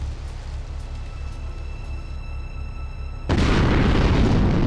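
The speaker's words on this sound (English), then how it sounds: "Oh, that was a bomb." A bomb explodes in Grand Theft Auto 3, bursting suddenly after a few seconds of quieter game ambience into a loud, sustained roaring blast that continues to the end.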